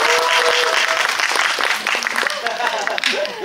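An audience at a film screening Q&A breaks into dense, continuous applause that stays loud throughout, with voices mixed into the clapping.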